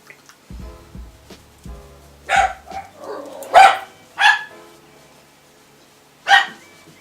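A dog barks indoors in a series of sharp, separate barks spread unevenly over several seconds, with a few soft thumps and low noises between them.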